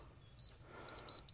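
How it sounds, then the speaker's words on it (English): A small electronic device on a board-and-batten LP SmartSide siding job gives a few short, high, sharp beeps in quick succession, fairly close against a quiet outdoor background. "So this thing keeps beeping at me"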